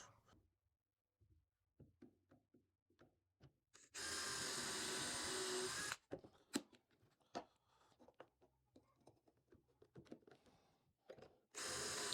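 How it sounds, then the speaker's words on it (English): Scattered wooden knocks and clicks, then a loud steady drill whine for two seconds as it bores pocket holes in 3/4-inch wood stock, more tapping and handling, and the drill starting again at the end. "we're going to cut the pocket holes in our cross braces in 3/4 inch stock"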